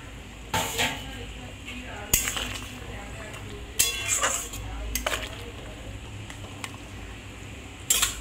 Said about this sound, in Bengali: এবার আমি এর মধ্যে মাছগুলো দিয়ে দেবো।